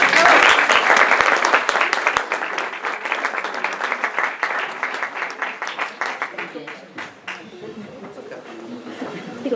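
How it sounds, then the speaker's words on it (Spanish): Audience applauding at a Mexican public-sector training course event, dense clapping loud at first then gradually thinning and fading over about ten seconds, with some chatter mixed in. "Te aplaudo."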